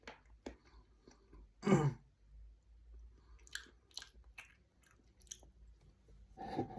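Someone chews food up close, producing quiet wet munching with a few louder crunchy bites and soft mouth noises spread across the stretch, with no clear talking.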